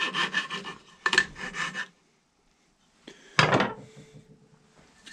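A coping saw or other thin-bladed saw cuts through a wooden ramrod that is turned as it goes, giving short bursts of rapid rasping strokes broken by a pause, then one more scraping burst.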